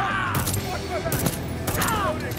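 Gunfire from the first-person shooter Deathloop, a few sharp shots spaced through a busy game mix with music and effects, while a player talks over it.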